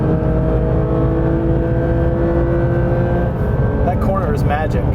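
A Porsche 911 GT3 RS drives hard on a race track, its engine drone steady and loud throughout, with a sustained tonal whine and a brief rising note near the end.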